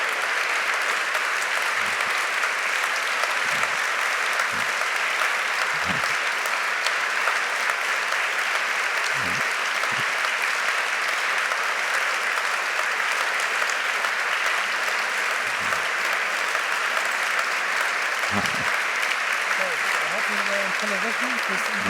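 A large audience applauds at the Körber Prize award ceremony in Hamburg City Hall, a steady, continuous roar of clapping lasting throughout, with a few faint low thumps scattered beneath.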